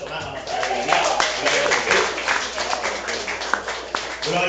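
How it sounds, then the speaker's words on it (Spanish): A congregation claps during a Spanish-language church service, steady applause throughout with a preacher's voice speaking over it. "Mijael Soli, un aplauso más, vamos a darle a Dios"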